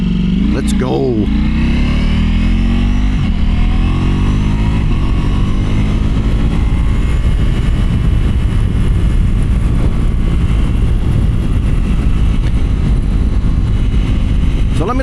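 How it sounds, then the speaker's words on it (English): A motorcycle fitted with a full Akrapovic exhaust revs at first and then drones on loudly and steadily close by, a dense, rumbling engine roar for the whole stretch. "let me know what you think of that full Akrapovic exhaust sound"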